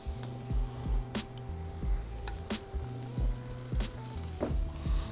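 Sausage and halloumi sizzling on a grill, with a steady frying hiss broken by repeated soft thumps and squishes as pieces are set down and shifted.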